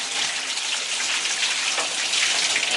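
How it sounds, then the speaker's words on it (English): Running water rinses dirty Marineland aquarium filter cartridges, a steady, close splashing wash that holds even and unbroken from start to finish. "now we'll give them a rinse."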